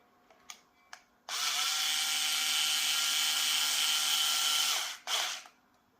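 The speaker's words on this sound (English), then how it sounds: "I'm going to go with my electric driver though, just to tighten them up slowly one by one" Electric screwdriver whirring steadily for several seconds while tightening screws on an FTX DR8 RC car center differential, preceded by a few small clicks and ending with a short second burst.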